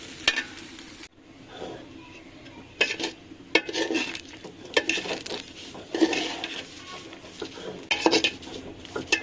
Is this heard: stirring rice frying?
yes